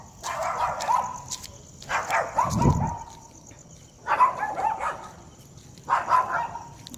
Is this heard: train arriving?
no